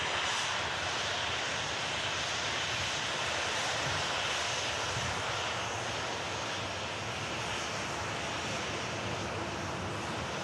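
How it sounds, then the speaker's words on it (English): A Ryanair Boeing 737 taxiing at Manchester Airport gives a steady, unbroken jet engine roar with broad rushing hiss, moderately distant and constant throughout, with no speech. "Ryanair 737 just taxiing in here at Manchester Airport"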